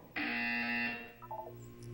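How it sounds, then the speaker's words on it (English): A loud electronic buzzer in Portal 2 blares once for under a second, then fades into quieter tonal beeps and a low ambient hum. "When you hear the buzzer, look down at the floor."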